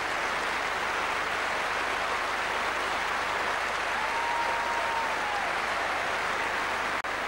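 The Wimbledon crowd claps through the mixed doubles trophy ceremony, a sustained, fairly distant and even roar of applause that holds steady throughout, with a faint brief tone drifting in partway.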